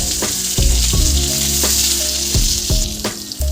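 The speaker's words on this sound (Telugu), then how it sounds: "ఆయిల్ అయితే వేడెక్కింది. ఆవాలు, జీలకర్ర అవి అయితే అయిపోయినాయి. నాకు కోసి పెట్టుకున్న ఉల్లిగడ్డలు కూడా గోలిన" Chopped onions fry in hot oil with mustard seeds and cumin, making a loud, close, continuous sizzle broken by repeated knocks and scrapes of a spoon stirring the pan, with no speech.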